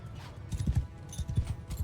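Cavalry horses galloping in the video game Mount & Blade II: Bannerlord, a steady rhythmic clatter of hoofbeats at moderate volume with no talk over it.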